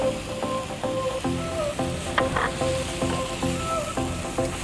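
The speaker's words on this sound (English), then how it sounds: "We need to saute all of basic ingredients until brown color, and then have an aromatic smell" Blended onion, ginger and galangal sautéing in hot oil, a continuous close sizzle broken by rhythmic stirring scrapes and a few louder spatters.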